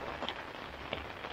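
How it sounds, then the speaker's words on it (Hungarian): Heavy rain pouring steadily in a walled old town on the Tuscan border, a dense continuous wash of patter with scattered louder drops, no voices. "És mint látjátok, ömlik az eső."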